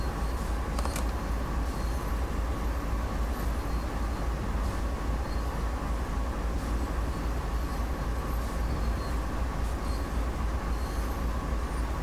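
A train in Train Sim World 2 accelerates under power, its steady low rumble and rolling hum running continuously, loud and close, with no talking.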